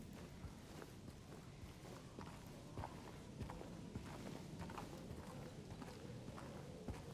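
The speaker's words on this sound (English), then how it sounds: "his footsteps are kind of, they're kind of like a little too loud" Character footsteps in the video game Silent Hill 2 Remake, a steady run of quiet, even steps over a faint, noisy background, with no talk.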